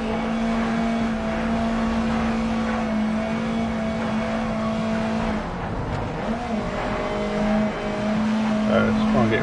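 Race cars in the Grid Legends video game lap Brands Hatch, their engines a steady, loud droning whine that swells and dips as the pack races on.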